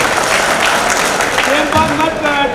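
An audience at a Malegaon mushaira breaks into applause, a dense spread of clapping under a voice speaking over the crowd.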